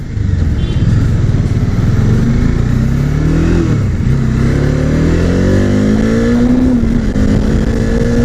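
A motorcycle rides at about 70 km/h, captured by a GoPro Hero 7 on an Axor helmet, with a loud, continuous engine drone and wind rush whose pitch rises and dips as the rider throttles.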